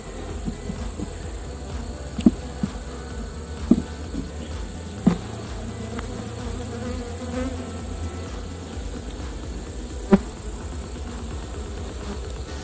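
Honey bees hum steadily around an open beehive, a close, continuous drone with a few sharp clicks and knocks breaking through, no voices over it.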